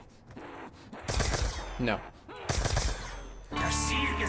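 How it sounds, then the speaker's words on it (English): Gunfire from a weapon in the video game Call of Duty: Black Ops 2 Zombies, two loud rapid bursts of shots separated by short gaps, with a player's brief voice between them. "I'm hearing four shots"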